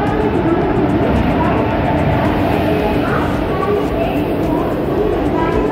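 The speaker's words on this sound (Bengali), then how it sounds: "ভুবনেশ্বর স্টেশনের 1 নম্বর প্ল্যাটফর্মে রাত 11:40 ঢুকছে আমাদের জগন্নাথ এক্সপ্রেস।" The Sri Jagannath Express pulls into platform 1 at Bhubaneswar station at night, giving a loud, continuous rumble and roar of rolling rail cars with no letup.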